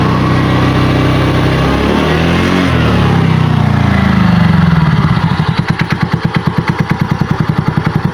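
A TVS Ntorq 125 scooter engine, running after a repair, revs up loudly, then settles into a close, rhythmic, steady idle chug with an even pulse.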